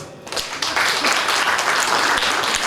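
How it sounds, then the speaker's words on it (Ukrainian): Applause from an audience fills a hall at a Ukrainian culture workers' day celebration, greeting volunteers; a dense, steady wash of clapping starts after a brief quieter moment and stays loud throughout. "Тож зустрічаємо оплесками людей, у котрих велике серце."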